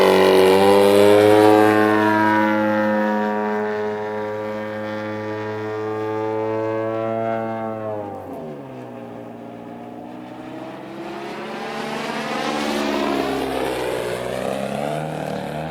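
A propeller airplane runs a loop, its engine drone rising and falling in pitch as it climbs over and dives back down, loud and continuous throughout.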